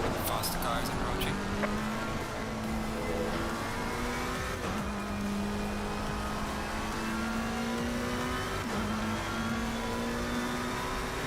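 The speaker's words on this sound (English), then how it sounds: "Faster cars approaching." Race cars in a sim racing game at Misano, engines droning steadily at high revs with rising and falling pitch as faster cars close in, layered over continuous engine noise.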